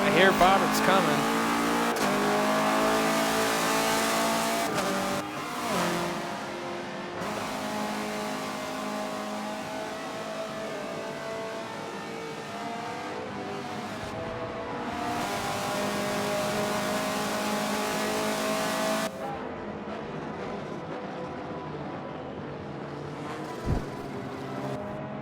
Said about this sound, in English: I hear Bobberts coming